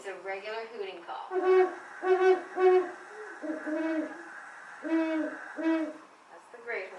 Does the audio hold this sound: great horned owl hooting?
yes